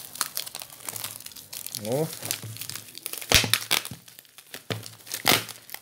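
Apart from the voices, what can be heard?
adhesive tape being handled and wrapped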